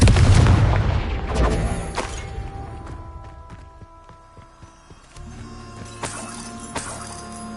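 Confringo blasting spell in Hogwarts Legacy, an explosive boom at the start decaying into a long ringing tail, followed by a series of sharp cracks and a second burst of blasts later, fairly loud.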